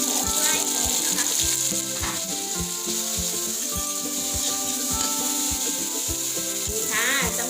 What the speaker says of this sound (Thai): เอาน้ำพริกของเราลงไป ผัดเพื่อให้ความหอมนะคะ